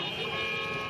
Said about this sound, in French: C'est un concert de klaxons qui accompagne le convoi des peshmerga.